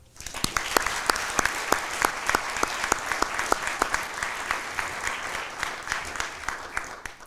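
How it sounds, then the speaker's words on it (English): Audience at the Chain of Survival 2024 event gives a round of applause for a hospital's ER staff: many people clapping steadily and fairly close, sharp individual claps standing out above the dense wash. "Let's give a round of applause first to Catholic's ER staff."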